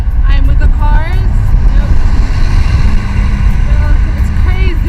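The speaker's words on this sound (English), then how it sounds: "I'm with the cars." Car traffic rolling past a cyclist on a city road between Tophane and Zeytinburnu in Istanbul, a steady loud engine and tyre rumble with vehicles passing close, voices talking over it throughout.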